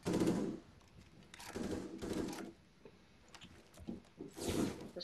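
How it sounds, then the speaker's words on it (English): Gunfire in the Rainbow Six Siege video game, several bursts of rapid automatic fire with quieter gaps and scattered shots between them, moderately loud. "He's still shooting, you know?"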